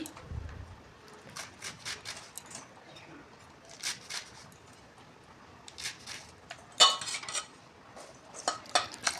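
A knife chops spinach leaves finely for spinach paratha, giving a faint, irregular series of quick sharp taps against a board with occasional light clinks, close and fairly quiet.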